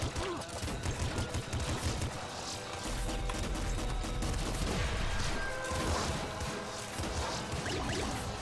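Dense video game combat from Nuclear Throne, with rapid gunfire and a cluster of explosions crashing together in a steady, chaotic barrage while players talk over it.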